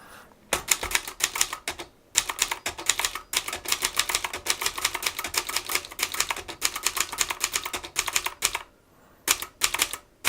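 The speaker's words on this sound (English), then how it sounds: "I'm going to just do some practice typing on a spare sheet of paper here" Practice typing on an ultra-portable typewriter: rapid bursts of sharp mechanical key strikes, close and crisp, broken by a few short pauses, one probably a carriage return, with no talk.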